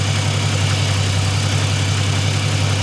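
A car engine idles steadily with a deep, even hum, close and loud, in a check for antifreeze loss and a possible head gasket leak; no clear rev rises.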